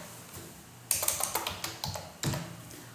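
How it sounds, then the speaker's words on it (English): Keys clack on a computer keyboard while text labels are entered in drawing software: a few soft taps, then a burst of quick, close, crisp keystrokes and a final sharp press, with no talking. "Here I will type A dash."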